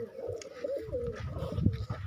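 Soft, low cooing of pigeons rolls on continuously, close by, with faint rustling beneath.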